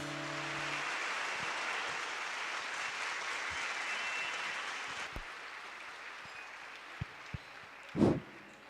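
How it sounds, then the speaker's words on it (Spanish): Sustained applause from a crowd at a prayer breakfast, steady and fairly distant, fading near the end into a few scattered knocks and a brief thump. "le damos un fuerte aplauso nuevamente"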